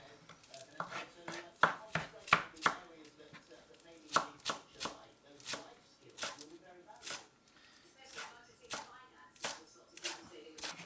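A knife chops a bunched handful of fresh coriander on a board, giving a run of sharp, irregular close-up thuds that slow into a steady rhythm, with a faint voice now and then.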